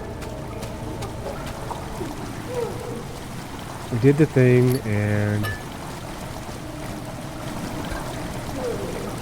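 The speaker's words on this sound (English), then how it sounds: "water has begun to fill the chamber" In the game Amnesia: The Dark Descent, water pours and trickles steadily into a stone chamber, a continuous rushing flow under quiet talk, with a brief tonal game sound rising midway.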